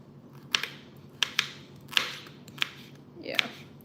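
A knife dices a vegetable on a cutting board for pasta salad, giving about six sharp, irregular chopping taps close by over a low, steady room hum, with no talking.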